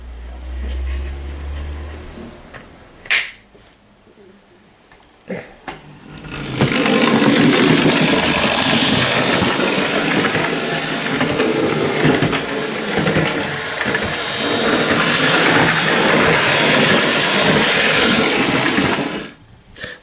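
A Hornby Dublo LNER N2 tank engine model train runs noisily along its track, a few clicks and knocks giving way to a loud, steady buzzing whir that holds for over ten seconds before cutting off.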